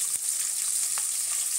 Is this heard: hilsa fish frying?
yes